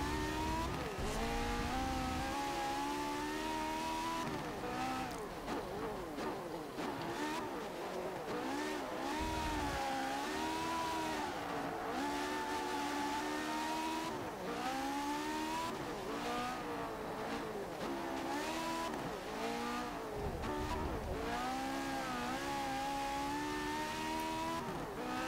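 An open-wheel race car in Forza Motorsport 7 screams at high revs, its engine note climbing and dropping through gear changes and corners, loud and continuous with no talk over it.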